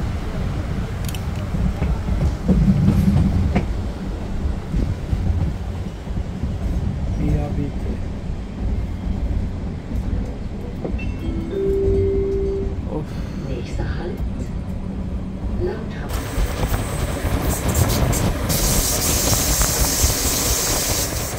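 Swiss train rolling toward Interlaken Ost station, a continuous loud rumble and hiss of the carriage in motion, with a brighter rush of noise near the end.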